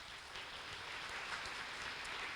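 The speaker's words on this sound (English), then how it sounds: "if you would give them a round of applause" A school crowd at a high school awards day claps for the award-winning girls, a faint, dense wash of applause heard from a distance that carries evenly to the end.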